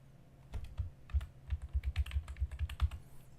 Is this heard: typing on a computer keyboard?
yes